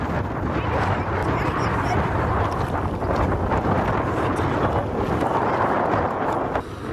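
Strong, steady wind roars and buffets the microphone throughout beside the Mochu river in Bhutan, with a rushing outdoor rumble underneath.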